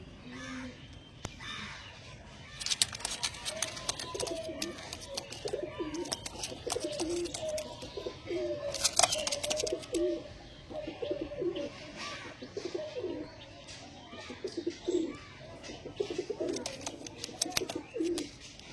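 A breeding pair of Andra Kalshira Star Kalanka pigeons, male and female, coo softly and repeatedly at close range, with rhythmic rolling calls and occasional wing flutters or rustling.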